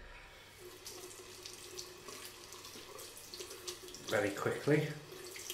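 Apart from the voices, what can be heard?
rinsing shaving brush under running tap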